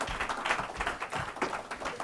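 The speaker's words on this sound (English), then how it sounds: "So give Alex a round of applause." An audience claps in a round of applause for Alex, the presenter at a Heartland Institute talk, with steady, dense, moderately loud hand claps throughout and no voices.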